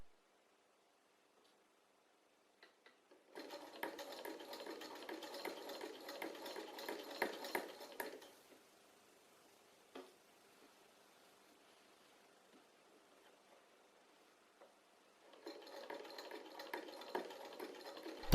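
A hand-cranked sewing machine runs in a workshop, stitching in two sustained whirring, clattering stretches separated by a long quiet pause, moderately loud and close with no talking.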